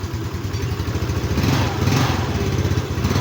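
A Yamaha Mio Sporty motorcycle engine runs steadily after a kick start, a continuous close, loud putter with rattly mechanical clatter and no talk over it.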